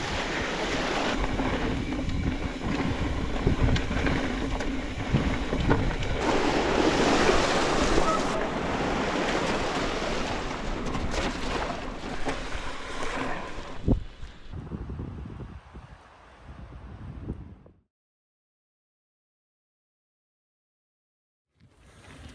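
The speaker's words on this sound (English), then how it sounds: "It's a little bit of a windy start." Wind roars across the microphone on an early morning bike ride, a loud steady buffeting rush that fades out into silence near the end.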